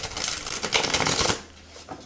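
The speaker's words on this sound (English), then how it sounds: "I love the sound that matte cards make when you move them together." Matte-finish Spacious Tarot cards riffled together by hand, a dense close papery rustle lasting about a second and a half before falling quiet.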